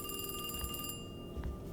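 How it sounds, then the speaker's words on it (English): Telephone ringing in the video game Alone in the Dark, a steady electronic ring with bright sustained tones that fades slightly partway through, heard alone without talk. "And that is the phone."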